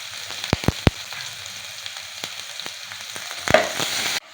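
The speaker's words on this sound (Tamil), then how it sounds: "வெங்காயம் வதங்கிருச்சு." Small shallots sautéing in a pan for a Kerala-style moru kuzhambu, a steady close frying hiss broken by a few sharp stir clicks and scrapes of a utensil against the pan.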